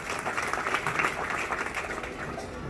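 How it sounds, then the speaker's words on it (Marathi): An audience at an awards ceremony honouring women and students applauds, a steady wash of clapping lasting a few seconds at moderate distance. "त्यांच्यासाठी परत एकदा आपण टाळ्या वाजवल्या तर बरं होईल."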